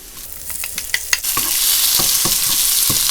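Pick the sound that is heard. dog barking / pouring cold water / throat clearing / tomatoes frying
tomatoes frying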